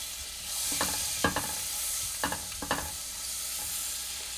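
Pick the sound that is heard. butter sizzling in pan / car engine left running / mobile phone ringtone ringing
butter sizzling in pan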